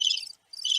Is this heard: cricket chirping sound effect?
yes